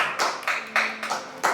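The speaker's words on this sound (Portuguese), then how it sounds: "Aplauda o Senhor Jesus nesta manhã." Bursts of applause rise and fall in uneven waves, a church congregation clapping together during a morning service, with a faint tone held underneath.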